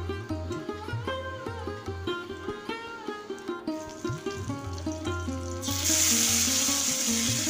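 Slit green chillies and black cumin seeds frying in hot oil, a close, steady sizzle with spattering pops and light stirring, swelling into a louder hiss near the end.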